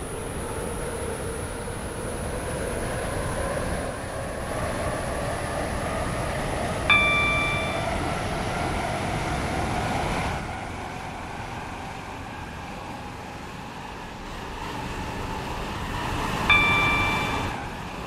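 A three-coach Waterline train in the Roblox game Stepford County Railway runs on the Newry route, a continuous rumbling roll with a high steady whine, broken by two bright chime tones spaced apart.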